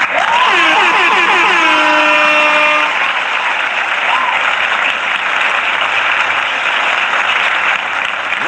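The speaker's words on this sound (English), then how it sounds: "No, man, we have to applaud him again" An audience breaks into loud, sustained applause. Air horns blare through the first few seconds, and then the clapping and cheering roll on without a break.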